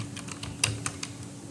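Quick typing of CSS code on a computer keyboard, a run of about eight light key clicks with one sharper tap, close and quiet with no speech.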